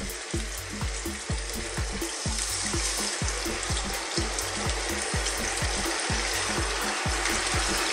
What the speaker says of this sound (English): And I want to fry that on about 2 to 3 minutes on each side.